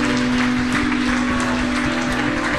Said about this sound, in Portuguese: Aplauda esses irmãos.